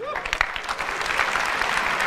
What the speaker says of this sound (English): Less applause there.